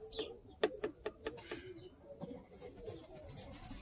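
Birmingham Roller pigeons cooing inside a loft, soft low coos close by, mixed with a few sharp taps and a flutter near the start, then quieter cooing with faint background noise.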